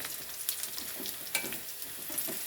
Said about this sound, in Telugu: లైట్ బ్రౌన్ అయ్యేదాకా ఫ్రై చేసుకోండి